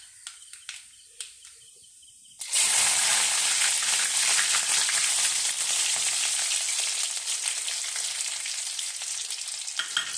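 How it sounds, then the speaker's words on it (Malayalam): Garlic hits hot oil after mustard seeds have popped for Kerala-style mango pickle, first a few small crackles and then a sudden loud, steady sizzle that goes on without letup at close range. "കടുക് പൊട്ടി തീർന്നിട്ട് ഇനി നമുക്ക് എടുത്തു വച്ചേക്കുന്ന വെളുത്തുള്ളി ഇട്ട് കൊടുക്കാം"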